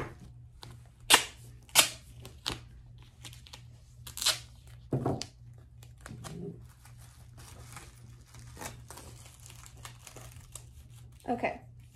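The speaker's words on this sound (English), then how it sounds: "I'm also going to use some duct tape to make sure that it stays." Duct tape being torn and pressed onto a homemade Olympic torch: a scattered series of sharp rips and crackly crinkles at irregular intervals over a low, steady hum.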